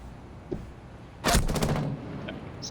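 A burst of hip-fired gunfire in Rainbow Six Siege, a loud sharp crack followed by a short ringing tail and fainter game sounds around it.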